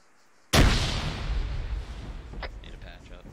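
A frag grenade detonates in ArmA 3 after a quiet moment, one sudden loud blast decaying into a rolling rumble, with a few faint clicks afterward.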